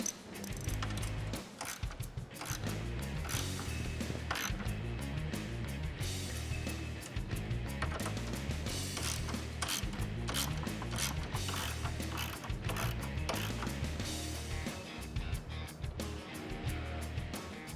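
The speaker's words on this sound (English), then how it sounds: "We're going to use a 10mm socket to remove those." A 10mm socket ratchet removing grille bolts on a 2009-2014 Ford F150, fast continuous clicking and mechanical rattling, close and steady throughout with no talk.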